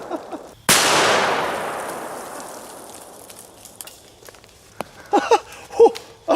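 A single loud gunshot from a .500 Magnum revolver loaded with 500-grain jacketed lead flat-nose rounds, fired at stone outdoors, a sharp blast decaying over a couple of seconds, followed by faint scuffs and brief voices.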